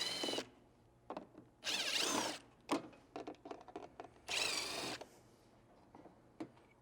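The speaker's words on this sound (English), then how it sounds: "use a T20 Torx to remove these brackets" Power driver with a T20 Torx bit backing out screws from front bumper light brackets on a Jeep JK, JL or JT, several short whirring bursts with small clicks in between, close and moderately quiet, no talking.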